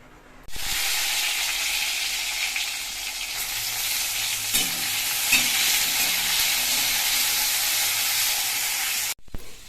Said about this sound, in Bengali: এখানে কড়াইয়ে আলু ভাজা বসিয়ে দিয়েছি